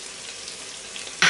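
Chopped liver frying in a pan over high heat for homemade pâté, a steady soft hiss that swells into a louder crackling burst at the very end.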